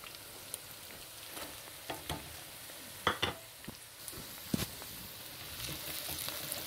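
Browned onions sizzle in a pan for fish curry while being stirred, with a steady frying hiss broken by a few scraping, clattering stir strokes.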